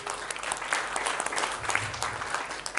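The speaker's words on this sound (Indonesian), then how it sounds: "Tepuk tangan bagi Tuhan." A church congregation claps together during a service, a brisk, continuous wash of hand claps at moderate volume filling the room.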